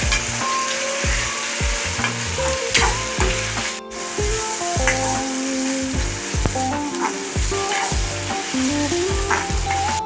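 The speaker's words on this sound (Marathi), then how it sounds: "टोमॅटो आपल्याला शिजवून घ्यायचा आहे, मिक्स झाला पाहिजे तो मसाल्यामध्ये, इथपर्यंत आपल्याला जरा शिजवायचं आहे।" Tomato and onion masala sizzles steadily in a pan for dhaba-style masala chicken, a close, continuous frying hiss with occasional stirring scrapes and clinks, no talking.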